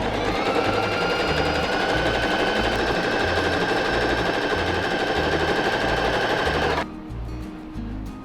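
A PFAFF Smarter 140S sewing machine runs a zigzag overcasting stitch along a fabric edge, a loud, fast, even mechanical whir close by that stops abruptly near the end, leaving a faint hum.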